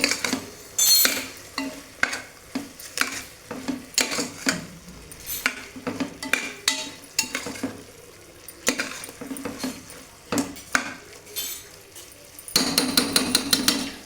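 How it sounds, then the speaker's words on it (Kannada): Masala and vegetables frying in a pot for tomato bath, with a soft sizzle under frequent scraping and clanking as a metal spoon stirs against the vessel. The sounds are close and irregular, and nobody talks. "ಇದೆಲ್ಲ ನೀಟಾಗಿ ಫ್ರೈ ಆಗಬೇಕು, ಎಲ್ಲ ಮಸಾಲ ಮಿಕ್ಸ್ ಆಗಬೇಕು ವೆಜಿಟೇಬಲ್ಸ್ ಜೊತೆಗೆ."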